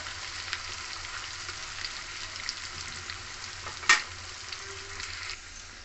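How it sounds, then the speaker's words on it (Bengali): Breadcrumb-coated potato spring rolls deep frying in oil give a steady, close, continuous bubbling sizzle with a single brief clink partway through and no voices. "ভালো করে ব্রেড ক্রাম্বসে গুঁড়িয়ে তেলের মধ্যে দিয়ে দেবো।"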